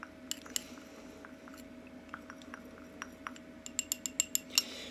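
Face oil mixture containing avocado oil stirred in a glass, heard as faint sparse clinks and ticks of a utensil against the glass that quicken into a short run of brighter taps near the end, close and quiet with no talk.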